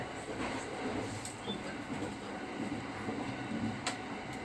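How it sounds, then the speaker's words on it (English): Steady rumble of the Marine Liner train rolling along the Seto-Ohashi line tracks into a single-track section, heard from inside, with faint rhythmic clicks and an occasional higher squeal. "As soon as we pass the limited express Shiokaze, the train enters the single track section."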